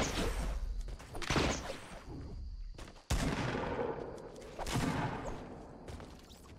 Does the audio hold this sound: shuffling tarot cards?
no